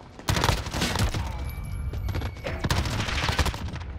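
Rapid bursts of MP5 submachine gun fire in the video game Modern Warfare, loud, close and repeated in quick volleys with short pauses between them.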